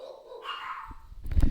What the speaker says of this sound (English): Oh my god, my dogs.